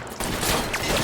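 Brief burst of gunfire in the video game L.A. Noire, a sudden volley of shots cracking in quick succession at moderate loudness.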